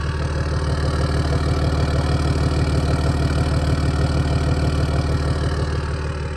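A modified Land Rover LR3 engine idles steadily and close by, a loud, deep, even rumble with a constant low throb throughout and no talking.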